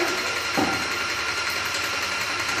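An airless paint sprayer pump runs steadily as it builds pressure, a constant close mechanical drone with a dense buzzing hum and no pauses.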